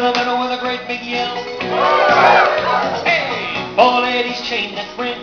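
A crowd of square dancers at a square dance in Emporia, Kansas lets out a big group yell and whoop, swelling loudly in the middle over the caller's singing and fiddle-backed music.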